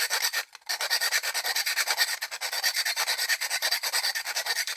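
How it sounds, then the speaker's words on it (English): Sandpaper rubbed by hand over a plastic Nerf pistol part, a close, even rasping in quick back-and-forth strokes with one brief pause near the start. "take a bit of sandpaper"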